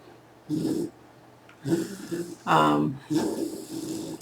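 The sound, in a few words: dog snorting while dreaming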